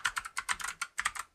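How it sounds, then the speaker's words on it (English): Computer keyboard keys are pressed in a quick, uneven burst of about a dozen close, crisp clicks, heard alone without any talk. "So I'm gonna hit my keyboard command,"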